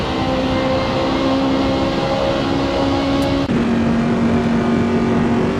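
BMW M3 race car engine heard on board during a Bathurst race in a racing video game: a loud, steady, droning engine note held at high revs, with a quick gear shift dropping the pitch partway through.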